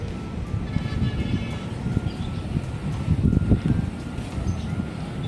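Wind buffets a phone microphone at a high outdoor spot on a sunny day, making a steady low rumble with gusty swells and no talk.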